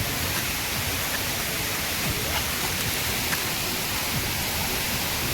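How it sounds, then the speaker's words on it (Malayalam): Steady broadband roar of the third waterfall at Cheruchakki Chola in Thrissur, a continuous rushing wash of falling water filling the scene, close and even throughout with no voices. "ഇനിയാണ് 3ാമത്തെ വെള്ളച്ചാട്ടം."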